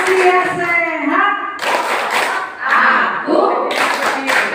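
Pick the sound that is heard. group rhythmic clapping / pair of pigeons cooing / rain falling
group rhythmic clapping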